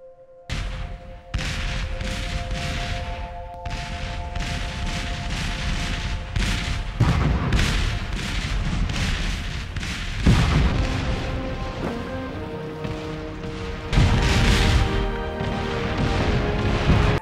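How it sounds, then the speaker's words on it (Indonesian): An American Civil War artillery bombardment thunders with heavy cannon fire, deep booms and blasts overlapping almost continuously, loud and close, with rattling gunfire layered between the larger explosions. "adu kirim bom meriam itu masih berlangsung"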